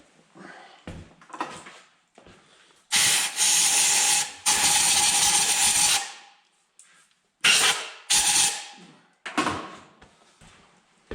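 Compressed air hisses in loud, broadband bursts while blowing out a John Deere B engine part during a valve seat rebuild. Several blasts of varying length are separated by short pauses, with faint clinks of handling in between.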